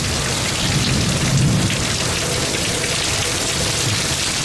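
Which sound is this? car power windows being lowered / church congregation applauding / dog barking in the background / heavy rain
heavy rain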